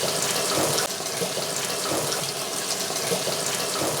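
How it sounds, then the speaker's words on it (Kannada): Water gushes steadily into a washing machine that runs on a UPS power supply, a close continuous splashing hiss with no speech over it. "ಇವಾಗ ನೀರು ನೀವು ಆಟೋಮೆಟಿಕ್ ನೋಡಿ ನೀರು ಬರ್ತಿದೆ ಇಲ್ಲಿಂದ."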